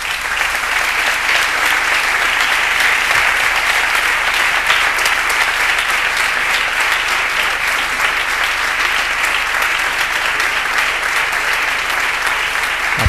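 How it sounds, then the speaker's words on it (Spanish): Sustained, loud applause from a ceremony audience following a speech by Spain's Deputy Prime Minister at the Cádiz Province Day event in 2012, steady and dense throughout without a break. "Aplausos a la intervención de la vicepresidenta del Gobierno, Soraya Sáenz de Santa María."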